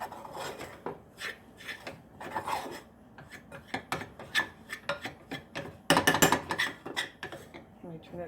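A roux of flour and cheese being stirred in a pan, giving repeated scraping and rubbing strokes of utensil against cookware, close and moderately loud, with a burst of louder clatter near the end.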